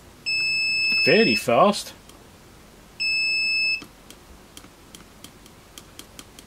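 A Kaiweets ST120 pen-type multimeter gives two steady, high-pitched continuity beeps, each under a second long, close and loud, with someone speaking briefly over the first tone and light ticking afterward.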